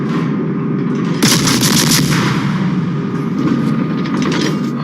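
Heavy warship guns fire shells in World of Warships, a dense rumbling barrage of booms with a loud burst around the one-second mark and further thuds trailing off, no voices.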